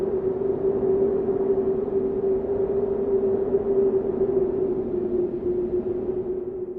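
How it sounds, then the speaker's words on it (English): A steady, droning low wind with a hollow, resonant hum, wrapped in a long, spacious reverb tail; continuous and even throughout with no voices. "Here it sounds more like an underground wind"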